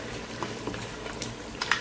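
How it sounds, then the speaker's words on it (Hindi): Beef for pulao fries in a pot with a soft bubbling sizzle, close and fairly quiet, with a few faint clicks of stirring over the short stretch. "ये कलर चेंज होना शुरू हो गया गोश्त का, थोड़ी देर हम इसको फ्राई करेंगे"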